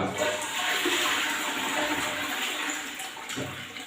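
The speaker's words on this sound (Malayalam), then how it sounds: "ഒന്ന് ഫ്ലഷ് ചെയ്ത് കൊടുത്തു കഴിഞ്ഞാൽ നീറ്റ് ആൻഡ് ക്ലീൻ ആയിരിക്കും ക്ലോസറ്റ്" A toilet flushes close up with a rushing gush of water that gradually settles into a softer trickle and gurgle.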